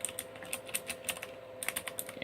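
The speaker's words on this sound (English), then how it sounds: "And it's got a really nice keyboard." Fingers type on the keyboard of a 1989 CAF ProLite 286 MS-DOS laptop, producing a steady run of close, quiet, crisp key clicks with an even rhythm and no talk.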